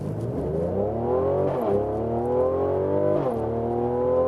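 A 2017 Mercedes C43 AMG accelerates hard from 0 to 60, its engine note climbing steadily with two quick dips at gear changes, loud and close from inside the car.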